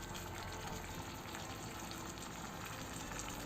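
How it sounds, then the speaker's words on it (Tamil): A miniature pot of dried fish curry bubbles and simmers, a faint, steady, close-up hiss with soft boiling crackle and no voices. "இப்போ நல்லா கொதிக்க ஆரம்பிச்சிருச்சு."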